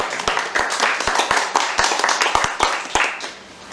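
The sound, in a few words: audience applause for the translator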